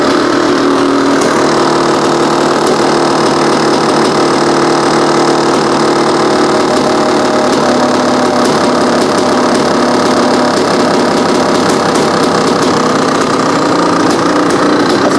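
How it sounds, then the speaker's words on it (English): A Honda CR500 dirt bike fitted with a cheap eBay carburetor idles a little high, with a loud, close, continuous engine drone and a fine knocking rattle that holds steady throughout. "Let's lower that idle a little bit. It's just a little bit high."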